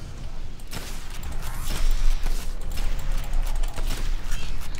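Gunfire in a custom zombies video game on a ship map, including shotgun blasts, sounds as a loud, dense run of sharp reports and mechanical clatter layered over the game's continuous background noise.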